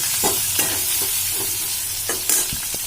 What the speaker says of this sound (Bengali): বড় আলুগুলো ভাজা হচ্ছে এটা এরকম গোটা অবস্থায় ভাজবো